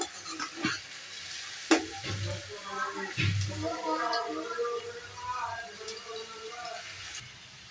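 Thinly sliced onions fry and sizzle in a pan alongside mutton liver fry preparation, a steady close crackle with scattered stirring scrapes and occasional voice in the background.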